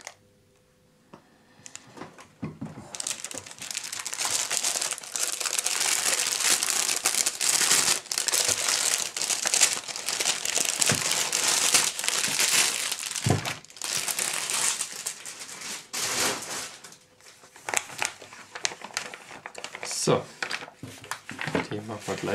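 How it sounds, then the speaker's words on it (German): A plastic bag for a build-your-own X-Wing model kit is torn open and crinkled, a loud, busy rustling that runs almost continuously after a quiet start, with a voice talking underneath. "wir machen als erstes die Tüte auf"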